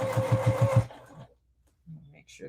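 An in-the-hoop embroidery machine stitches a back stitch, a fast rhythmic whirring hum of needle strokes lasting under a second before stopping, followed by quiet and faint voices.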